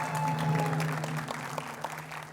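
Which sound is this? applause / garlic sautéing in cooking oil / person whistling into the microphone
applause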